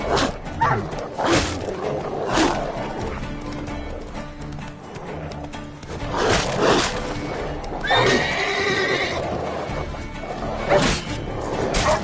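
Roach, the horse in The Witcher 3 video game, whinnies and snorts several times across the stretch amid game sounds, one neigh near the end rising clearly above the background noise.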